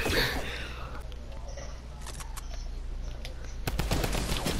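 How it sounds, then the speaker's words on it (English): Gunfire aimed at the player in Fortnite: scattered rapid shots crackle over steady game background noise, with a louder burst of fire near the end. "They're shooting me."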